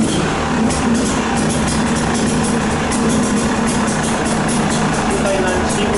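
A new motorcycle's engine, started for the first time, idles steadily and loudly throughout, a constant rumbling drone with no pauses.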